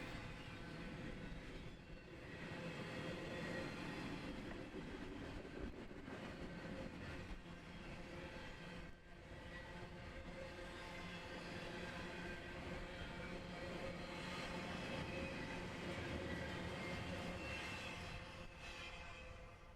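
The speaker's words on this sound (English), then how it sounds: "This train was nearly passed before I could get my drone in the air." A Norfolk Southern train rumbles steadily along the mainline tracks in Kentucky, loud and close, with a continuous rolling roar and faint metallic squeals throughout, no voices.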